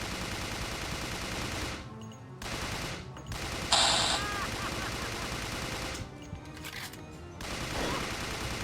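Rapid bursts of gunfire in Resident Evil: The Darkside Chronicles, dense automatic shots with a few brief pauses between volleys and a sharp metallic hit partway through.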